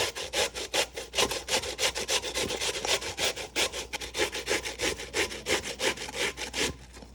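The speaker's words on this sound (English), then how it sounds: "We're gonna grate our next potato, and we're going to keep on going." Raw potatoes are grated by hand for Polish potato dumplings, each stroke scraping rhythmically across the grater in a fast, steady series of rasping pulls, close and fairly quiet with no voices.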